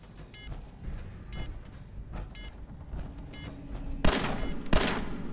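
Gunfire in Fallout 4, with a string of soft, scattered shots and rumbling movement building to two sharp, loud bangs near the end, no voices over it.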